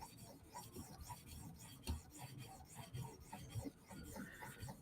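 A Chris Reeve Umnumzaan knife blade is sharpened on an 800 grit stone, giving a steady rasping scrape in repeated strokes, close and fairly quiet, with no talk.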